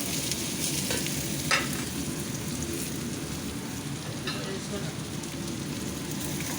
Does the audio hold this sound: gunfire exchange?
no